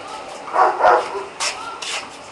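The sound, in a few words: dog barking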